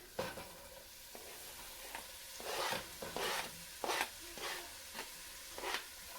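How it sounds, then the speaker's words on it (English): Onions stirred through melted butter in a pan over medium heat, with a soft background sizzle and repeated scraping strokes of a spoon, about five or six bursts in a loose rhythm, close and fairly quiet. "Just want to give it a good little stir first to get it nice and coated with the butter."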